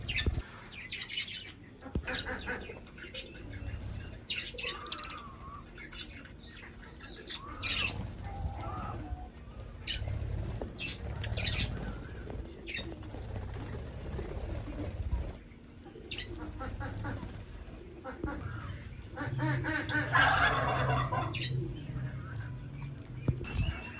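Caged birds in a mini zoo, including parrots and turkeys, give overlapping chirps, coos and bursts of wing flapping close by, with a faint voice now and then.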